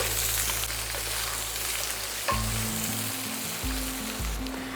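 Vegetables frying and sizzling in a pan, a constant close hiss with low humming tones underneath that shift a few times, no voices.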